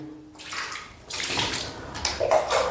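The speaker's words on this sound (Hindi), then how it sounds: "अब दोनों पैर आपको टखनों समेत धुल लेना है।" Water poured over the feet while bathing during a ritual wash, a splashing rush that starts after a brief quiet, then runs and sloshes in uneven bursts close by.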